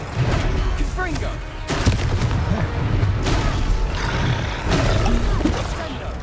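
Confringo blasting spell in Hogwarts Legacy, heard as a run of loud booming blasts and crackling bursts over dense battle noise over about six seconds.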